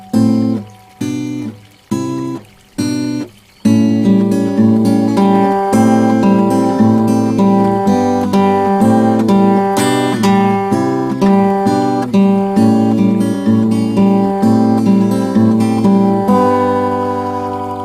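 Acoustic guitar plucked in a few separate chord strums, then settling into a continuous fingerpicked pattern of ringing notes, steady and close, playing the intro of a song.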